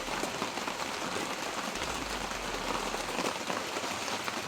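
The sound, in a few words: rain falling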